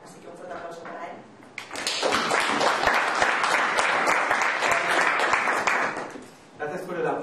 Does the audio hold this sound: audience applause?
yes